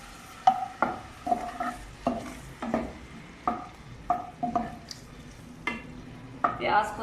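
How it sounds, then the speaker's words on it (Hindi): Onions fry in ghee in a pan while being stirred, with a soft sizzle beneath a regular series of scraping utensil strokes, close and moderately loud. "प्याज को थोड़ा सा फ्राई करेंगे"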